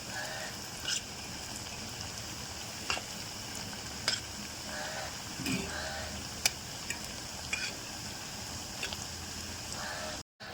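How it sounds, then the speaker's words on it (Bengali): Steady sizzle of bitter gourd fritters frying in oil, with a series of sharp clicks and scrapes as pieces are turned over in the pan. "দেখো আমার এক পিঠ ভাজা হয়ে গেছে এবার সব কটা এভাবে উল্টে দেবে"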